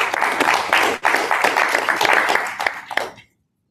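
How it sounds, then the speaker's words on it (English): An audience applauds a guest speaker, a recruiter at a finance firm, with sustained dense clapping that holds steady for about three seconds before cutting off abruptly into silence. "So a big round of applause to Ben Schreiber."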